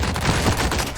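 SMG in the video game The Cycle: Frontier firing a rapid, loud, close burst of shots that blur into a dense continuous rattle.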